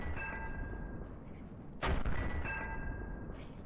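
Gunfire in the video game Ravenfield: one sharp, loud shot cracks out in the middle of a low game-ambience hum, with faint tonal game sounds before and after.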